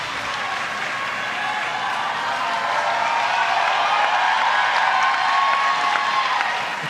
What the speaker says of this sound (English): The crowd is getting behind her